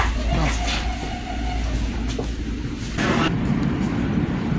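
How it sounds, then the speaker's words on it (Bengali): A Long Island Rail Road train pulls into Jamaica station in New York on track 2, its steady rolling rumble and rail noise filling the scene. A public announcement and nearby voices carry over the moving train. "Arriving in Jamaica on track number 2."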